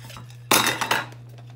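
A small Toaks 550 backpacking pot and cook kit being handled, giving a sharp metallic clatter with a couple of quick knocks over about half a second, close up, over a steady low hum.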